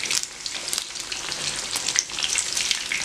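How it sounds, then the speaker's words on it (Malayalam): Fish frying in hot oil in a pan makes a steady, close crackling sizzle that runs without a break the whole time. "മീനിൻ്റെ ഒരു വശം നന്നായിട്ട് വെന്ത് ഫ്രൈ ആയി കിട്ടിയിട്ടുണ്ട്."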